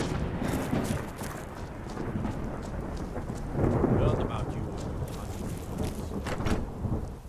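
Thunderstorm with steady rain in the video game Skyrim, a continuous rush of rainfall with a deep rolling thunder swell midway, and brief words spoken over it.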